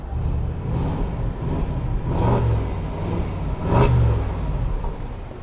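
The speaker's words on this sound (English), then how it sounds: "Rev it up a little bit more." Stock exhaust of a 2016 Range Rover Sport being revved, a low engine drone that swells in two short, modest revs, heard up close without talk.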